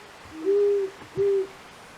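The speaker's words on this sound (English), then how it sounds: "Have you ever heard a great horned owl in the woods?" Two low, steady great horned owl hoots in quick succession, clear and fairly close against a quiet background.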